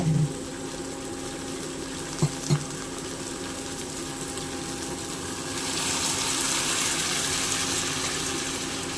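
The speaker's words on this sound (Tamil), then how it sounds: "இதுக்கு கொஞ்சம் தண்ணி ஆட் பண்ணிக்கிறோம்." A few clicks of utensils are followed by water pouring into a pan of cooking buttermilk curry, which turns into a steady gushing rush through the second half.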